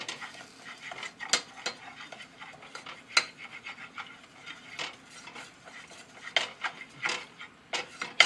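Olive oil and garlic being stirred in a pan, a run of scattered scraping clinks and taps of utensil on metal, irregular and close, with no voices.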